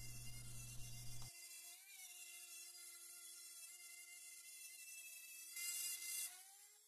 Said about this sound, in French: on voit bien que la bague plastique suit bien le bord de la planche et que la fraise découpe le plexi